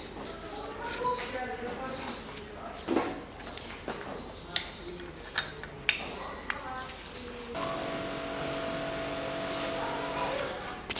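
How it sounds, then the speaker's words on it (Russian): Small birds chirping outdoors on a summer day during work on a 2013 Mitsubishi ASX 1.8 4B10 engine, repeated bright chirps at moderate distance with intermittent clinks and handling noises, then a steadier tonal background. "Птички чирикают, бабочки летают, соседи веселятся."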